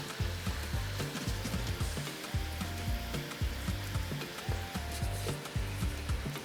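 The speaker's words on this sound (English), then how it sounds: "you can hear the sizzling of my prawns" Prawns fry in a hot pan for Nigerian fried rice, giving a continuous close crackling sizzle with soft rhythmic bumps and scrapes underneath and no talking.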